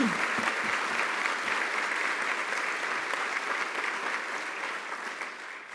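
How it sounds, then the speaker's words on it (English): Steady, full applause from an audience at a keynote launch event, sustained evenly with no speech over it. "join me in giving them a much-deserved round of applause"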